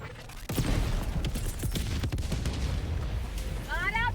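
Sustained automatic gunfire in a video game, aimed at an enemy fabricator, with loud, dense, rapid shots running almost continuously and a short burst of higher chirping effects near the end.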